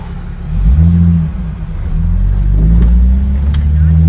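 A VR6 car engine revs loudly from inside the vehicle, a deep droning pull that rises and dips over a few seconds with wind rush around it.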